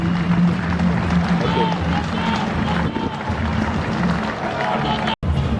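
An audience at an official ribbon-cutting ceremony for a dry port in Sakania, Democratic Republic of the Congo, claps in dense, steady applause that fills the space, with a brief cut near the end.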